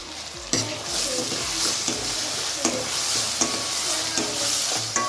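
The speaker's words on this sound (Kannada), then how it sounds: "ಸೊ ಒಗ್ಗರಣೆ ಕೊಟ್ಕೊಂಡು ಬೇಳೆ ಕುದಿಸಿರೋದನ್ನು ಆ್ಯಡ್ ಮಾಡಿದ್ದೀನಿ" A tempering for dal sizzles in a pan with the boiled lentils, a steady frying hiss broken by regular scraping stirs of a spoon against the metal, close and continuous.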